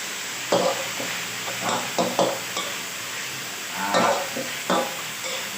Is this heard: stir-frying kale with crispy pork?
yes